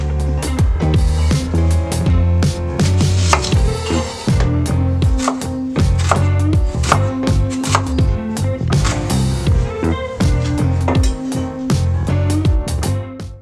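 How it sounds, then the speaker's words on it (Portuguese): An onion being sliced with a knife for caramelizing, with quick, crisp, regular chopping strokes on a cutting board, close up and loud throughout. "E para isso, eu vou fatiar a cebola."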